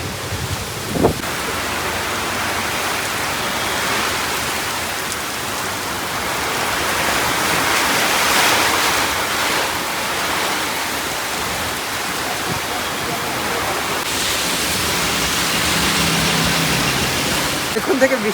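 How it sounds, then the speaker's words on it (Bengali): Heavy rain pours down during a storm, a dense, loud roar of water that never lets up and swells partway through, with a sharp knock or two near the start. "এত জোরে বৃষ্টি নামছে আর ঝড়, এখানে এক জায়গায় দাঁড়ালাম"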